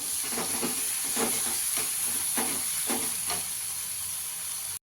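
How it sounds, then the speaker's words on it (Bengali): Chopped green chillies and masala sizzle and hiss in hot oil while being sautéed for a masala egg omelette, with a steady frying hiss and soft rhythmic stirring scrapes, no voices. "এখানে আমি দুটো কাঁচা লঙ্কা কুচি করে দিয়ে দেবো। ভালো করে একটু কষিয়ে নিতে হবে।"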